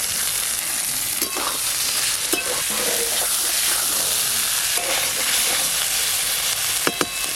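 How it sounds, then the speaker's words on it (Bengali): Neem leaves frying in mustard oil for neem begun produce a loud, continuous sizzle with occasional scrapes and clicks of a stirring utensil. "সর্ষের তেল নিম পাতা নিম পাতাগুলো একটু ভালো করে তেলেতে ভেজে নেবো এভাবে"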